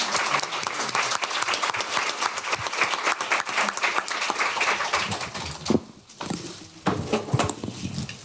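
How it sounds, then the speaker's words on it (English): An audience at a public congressional briefing on aging applauds its panelists, a full, steady round of clapping that thins and dips briefly near the end before swelling again. "Please join me in a round of applause."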